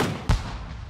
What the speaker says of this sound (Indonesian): Petasan tetangga.